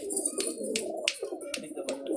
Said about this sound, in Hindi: ये देखो ये पीछे है कबूतर